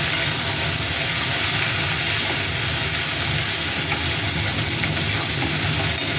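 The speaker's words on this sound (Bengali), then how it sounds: "হালকা ভাজা হবে" Shrimp frying lightly in a pan with cumin and onion, a steady, close sizzle and hiss that holds evenly throughout with occasional stirring scrapes, no talking.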